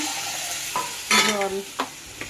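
Pre-fried fish added to a jackfruit curry in a pan, with a steady low sizzle broken by a few distinct stirring scrapes and clinks of a spatula.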